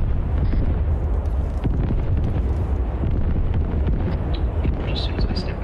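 Arc Light bombing in Arma 3 set in Vietnam, a steady, dense roar of distant explosions that rumbles continuously with wind-like noise, and a voice talks over it at times.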